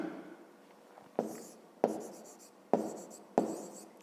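Pen or chalk writing out a maths solution for a fifth-grade exercise: four distinct sharp strokes, each a quick tap followed by a short scratchy trail, close and fairly quiet against a low background hum.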